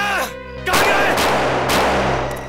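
A loud burst of gunfire in a TV crime drama erupts after a moment of talk, with sharp, heavy blasts ringing out close by and echoing over a rumbling background.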